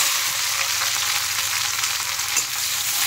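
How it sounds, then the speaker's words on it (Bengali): Chopped green chili and onion fry in hot oil in a pan, giving a loud, steady sizzle with soft crackles throughout and no talking. "দিয়ে দিচ্ছি এখানে কুচনো লঙ্কা আর পেঁয়াজ।"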